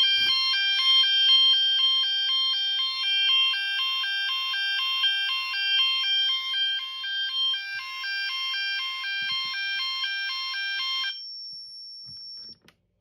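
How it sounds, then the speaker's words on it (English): A Gent fire alarm sounder on a Morley IAS DXC-1 panel sounds a loud, steady rapidly pulsing electronic tone for about eleven seconds, then cuts off, leaving near silence. "Just hear the Gent tone, Gent sounder."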